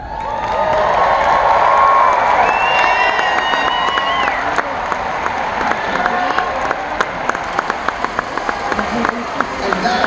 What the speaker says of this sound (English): stand up and cheer